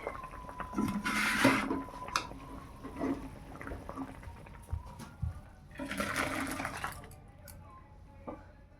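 A sour cooked Bengali dish is poured from the pot into a container, making two wet, splashing pours, the second a longer stream, with a few soft clinks in a quiet kitchen.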